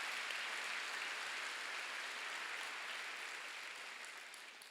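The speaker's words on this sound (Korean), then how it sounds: "박수를 하세요." A church congregation claps steadily in a dense, even wash of applause that slowly fades toward the end.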